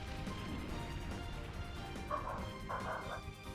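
Dogs barking in the video game Pokémon Colosseum, with two short bursts of yapping over a constant low background hum and music.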